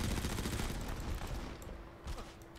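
Rapid turret fire in the Modern Combat 5 shooter game, a dense, continuous burst of loud automatic shots hammering close up, tapering slightly near the end.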